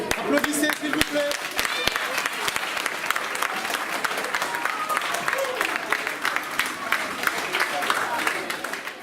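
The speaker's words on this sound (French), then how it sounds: "Applaudissez s'il vous plaît." A school audience at a secularism day event at a collège applauds, sustained and fairly loud clapping across the whole stretch with faint voices and murmurs mixed in.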